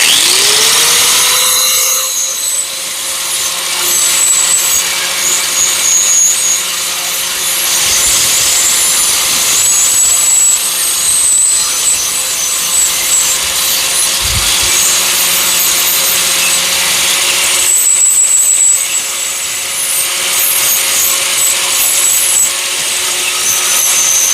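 A power tool roughs up a metal surface on a turbo Mustang build so JB Weld will bond, a loud continuous grinding whine running almost unbroken for about twenty seconds with one short pause near the end.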